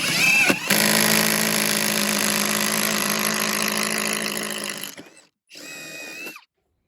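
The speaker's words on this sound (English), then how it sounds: "And then we'll take each piece and drill it." A power drill bores into wooden pieces in a close, loud, continuous whirring run of several seconds, then stops, followed by a second short burst after a brief pause.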